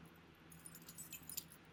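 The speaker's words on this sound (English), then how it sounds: "Fuck with my keys." Keys jangle quietly nearby in scattered small metallic clinks, a couple of sharper chimes near the end, over a low hum with no talk.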